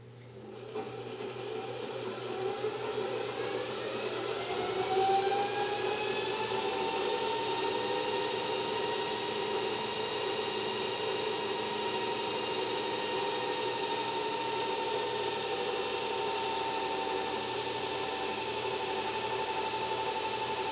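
An electric motor in a perpetual motion machine demonstration rig runs steadily at about 700 RPM, giving a continuous whine with stable tonal hum and a rising pitch early on, loud and unbroken with no talk.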